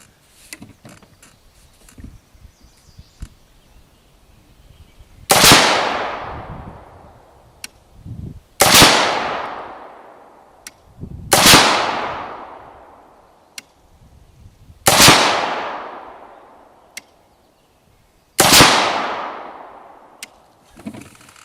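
A rifle fires Tula 62 grain ammunition with no muzzle device: five loud, sharp, unsuppressed shots about three seconds apart, each followed by a long ringing decay.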